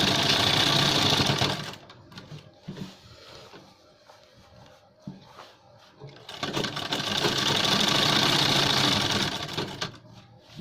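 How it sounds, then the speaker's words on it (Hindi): A sewing machine stitches a gents shirt seam with its presser foot, running steadily in two loud bursts separated by a quieter pause, with no talk. "इस पर एक पैर की सिलाई यहाँ से स्टार्ट कर देते हैं"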